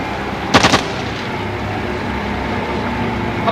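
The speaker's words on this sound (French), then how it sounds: "Le coup de feu tiré devant l'étrave était un signal d'alarme." A single warning gunshot fired across a boat's bow on the Mekong river, a short sharp burst with a quick echo over steady engine and water noise.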